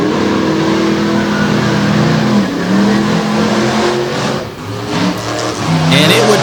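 A racing truck's engine roars loud and close on the track, holding a steady, full-throated note with rising and falling revs throughout.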